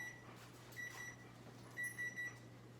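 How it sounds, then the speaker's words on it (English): A kitchen timer beeps in three short, evenly spaced bursts over a low steady hum in a home kitchen while apple pie dough is made, faint and alone with no talk. "and our timers went off."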